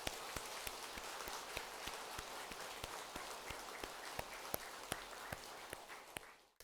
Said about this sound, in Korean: 여러분 함께해 주신 우리 선센터 주지스님과 사부대중께 다시 한번 큰 박수를 한번 부탁드립니다